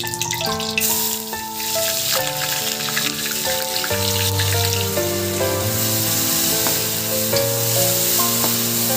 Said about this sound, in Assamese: আদা নহৰু জলকীয়া বিলাহী গোটেইখিনি পেষ্টখিনি দি দিম